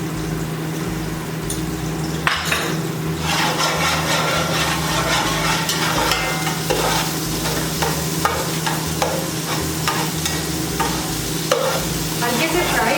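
Garlic and green chili frying in hot oil in a pan, a loud continuous sizzle close by with repeated stirring and scraping strokes of a spatula throughout, no talking.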